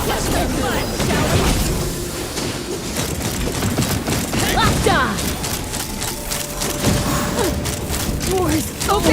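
Rapid gunfire bursts in Genshin Impact crackle loudly and almost without pause, with heavy thuds and booms mixed in, while voices talk over the battle.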